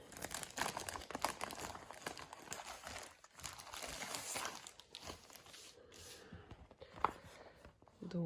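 An Aine cross stitch kit with a Paris design being unwrapped: faint, continuous crinkling and tearing of its plastic packaging with small rustles and taps, fairly close, with no talking.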